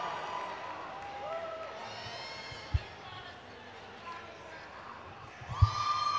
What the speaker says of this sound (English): Wow, this crowd.